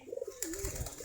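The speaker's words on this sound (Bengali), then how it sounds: "দেখেন আমাদের কবুতরগুলো খাবার খাচ্ছে এখন।" Local Giribaz pigeons coo close by while feeding, a few soft rounded coos repeating in a low wavering rhythm over a faint rustling background.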